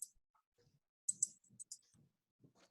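A pen clicks repeatedly in a quiet room during a school board meeting, sharp close clicks in irregular bursts with short silent gaps between them.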